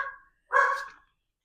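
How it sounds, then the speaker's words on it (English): A pet dog barks at home, a short yip followed by one fuller, louder bark about half a second later, both close by with no talking. "You'll probably hear Toby barking."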